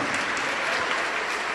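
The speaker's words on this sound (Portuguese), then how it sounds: "Ô glória, vamos aplaudir mais o Senhor Jesus." A church congregation claps together in dense, continuous applause, loud and close with no pauses across the short stretch.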